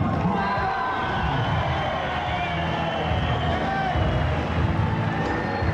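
Dense, steady boxing-arena crowd noise of cheering and applause right after a technical knockout in a ninth-round fight at a hotel casino in Wild Coast, South Africa, loud and continuous with a constant murmur of voices.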